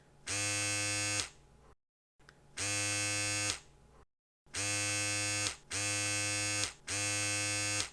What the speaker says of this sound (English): this is the sound of an electric razor